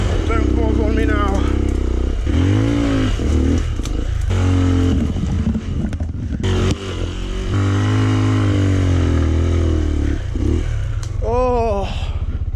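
A Rieju Marathon Pro enduro motorcycle engine revs and labours while riding up a stream bed, loud and close throughout, with rising and falling revs under a rider's talking.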